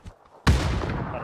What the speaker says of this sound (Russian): Я взорвал